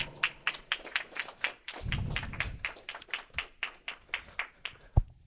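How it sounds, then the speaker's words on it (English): A small group claps at a youth leadership program event, producing sparse, distinct hand claps in an uneven rhythm with a brief murmur and a louder thump near the end, heard in a quiet room. "Let's give him another round of applause."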